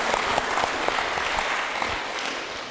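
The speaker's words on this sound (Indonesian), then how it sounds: "Tepuk tangan dulu." An audience at a pastoral talk for Catholic youth bursts into dense, loud applause, clapping steadily and evenly throughout with no voices on top.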